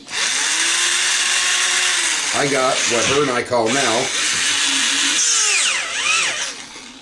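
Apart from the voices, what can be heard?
corded power drill running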